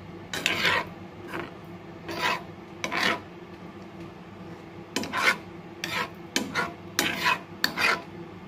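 Curd being stirred into gravy in a pot: repeated raspy scraping strokes in short bursts, close and fairly loud, with brief pauses between strokes and no talking.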